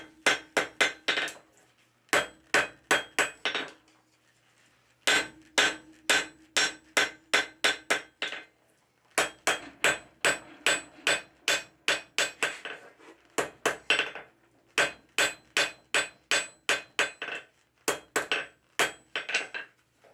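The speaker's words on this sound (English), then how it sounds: "hammer in the cutting edge" Sharp metallic hammer strikes on a steel cold chisel's cutting edge ring out in quick rhythmic bursts of several blows, pausing briefly between groups, close and clear with no talking.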